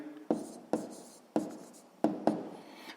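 Numbers being written down by hand during a sixth-grade math exercise: five short, crisp scratching strokes in an irregular rhythm, close and fairly quiet, each fading quickly, with no talking.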